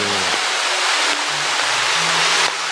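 A mountain stream flows through a valley as a continuous broadband rush of water. It is fairly loud and steady, and brief tonal hums pass over it.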